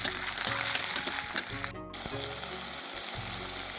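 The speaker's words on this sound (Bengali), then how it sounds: "তারপর পেঁয়াজ কুচিটা দিয়ে দিলাম। তো এটা একটু ভাজা ভাজা হয়ে" Chopped onion frying in oil in a wok, a soft continuous sizzle under low clattering and a short break near the middle, close and moderate in level.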